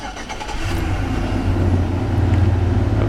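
A 2004 GMC Yukon XL 1500 engine cranks and catches, then settles into a steady, low rumbling idle close by, with no talking.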